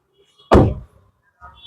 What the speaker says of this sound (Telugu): బ్యాక్ డోర్ తీస్తున్నాను.